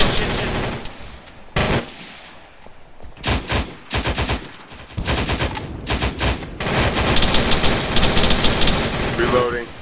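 Machine gun fire in ARMA 3 during an infantry firefight: loud, dense bursts of rapid shots in repeated volleys, growing into near-continuous fire toward the end, with radio voices talking underneath.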